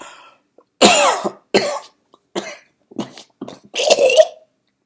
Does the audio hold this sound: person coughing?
yes